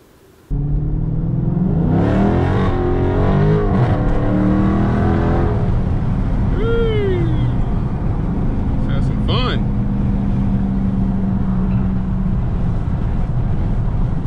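A car engine drones and revs from inside the vehicle, rising and falling through gears, loud and constant, with someone talking over it at times.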